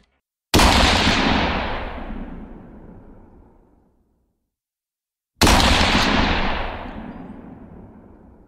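Gunshot sound effect in a Bengali audio story: two sharp, loud shots several seconds apart, each followed by a long echoing decay into silence, with no talk.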